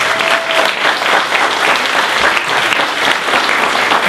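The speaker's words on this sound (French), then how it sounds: "donner une bonne main d'applaudissement à tous ces bénévoles" At a gala evening, the audience gives the volunteers a loud, sustained round of applause, many hands clapping densely and evenly throughout, with a faint murmur of the crowd beneath.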